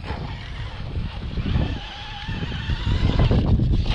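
A Traxxas Stampede 3606 RC car runs on a track, its electric motor whining and rising in pitch as it accelerates, with tire scrub and loose surface noise close by.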